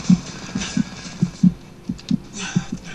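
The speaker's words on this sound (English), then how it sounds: "Heartbeat. Don't like it." Heartbeat effect from the video game Homefront: a steady, loud lub-dub thud pulsing about three times a second, repeating throughout over a faint background hum.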